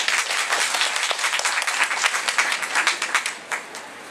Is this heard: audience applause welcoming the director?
yes